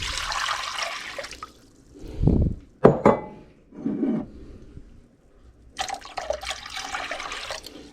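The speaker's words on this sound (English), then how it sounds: "pour the water in" Water poured over salt in a container while pickling northern pike, a few short splashing pours separated by quiet gaps, close and moderately loud.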